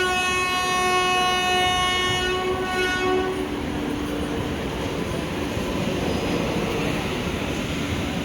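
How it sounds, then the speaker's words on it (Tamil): An electric MEMU train rolls into a station with a long sustained horn blast at first, then a continuous heavy rumble of the passing cars, close and loud. "ஸோ அந்த ட்ரெயின் வந்துட்டுருக்கதால இங்கே 15 மினிட்ஸ் அதை ஹால்ட்டு போட்டு வச்சுருக்காங்க."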